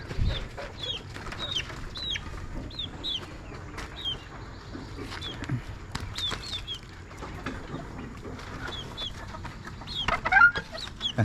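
Hens clucking and chirping in short, repeated calls over a steady farmyard murmur, close by and fairly busy throughout.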